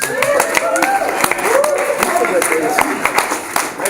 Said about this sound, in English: round of applause to everybody